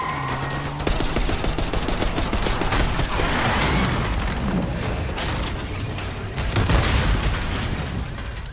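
Gunfire hammers at a limo in Call of Duty Black Ops 6, a loud, sustained barrage of rapid shots with heavy booms mixed in, continuous and close throughout.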